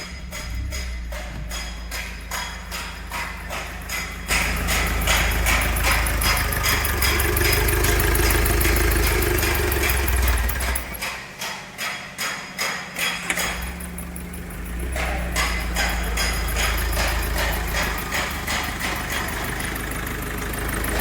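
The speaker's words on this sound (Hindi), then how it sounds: "एक इंजेक्टर में तो हमारा कंप्रेसर लीकेज हो रहा है, उसका साउंड आ रहा है" Diesel mHawk engine of a Mahindra Scorpio idles steadily close up, with a compressor leak at one injector adding a hissing, ticking chatter over the low drone, the note shifting slightly partway through.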